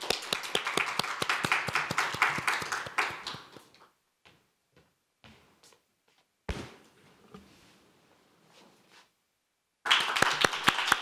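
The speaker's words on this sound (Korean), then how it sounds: "다음은 김윤정 참가자 연설 박수로 들어보겠습니다." Audience clapping welcomes the next speaker at a youth speech contest, a dense burst for about four seconds that thins to scattered claps and taps, then a fresh round of applause surges back at the end.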